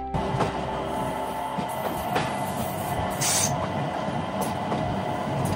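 A train between Interlaken and Grindelwald, Switzerland, rumbles along the tracks, with steady rolling noise, occasional wheel clicks and a brief metallic squeal, heard from inside the carriage.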